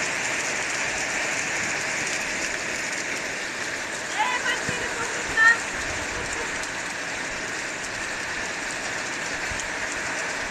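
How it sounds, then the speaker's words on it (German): Hail from a heavy storm in the Erzgebirge hammers down as a dense, constant clatter that holds steady throughout. A few brief louder knocks stand out partway through. "bei uns im Erzgebirge hagelt es dicke, fette Hagelkörner"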